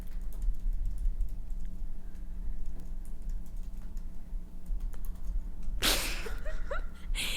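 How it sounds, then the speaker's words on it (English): Rapid typing on a computer keyboard, close and steady clicking keystrokes over a low background hum, with a brief loud burst near the end. "This has been typing ASMR."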